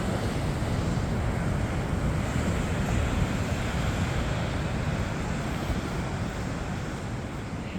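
Ocean surf rolls onto the beach at Rodanthe on the North Carolina coast, a continuous broad roar with wind buffeting the microphone and no distinct breaks.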